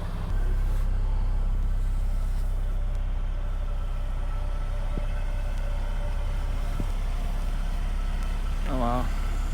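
A 2020 Mercedes-AMG CLA 35 engine runs steadily at a low, even drone as a night drive gets underway, with a brief rising tone near the end.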